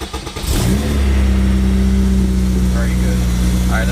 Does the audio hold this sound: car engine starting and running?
yes